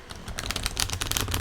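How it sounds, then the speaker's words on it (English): Playing cards being shuffled by hand, a quick flurry of crisp riffling clicks that stays close and fairly soft, with no voices. "I've just got to keep my hands moving, so I'm shuffling cards"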